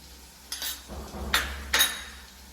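Masala powders of chilli, turmeric and meat masala are stirred in a pan, producing three scraping, clinking strokes of a utensil against metal over a faint low hum.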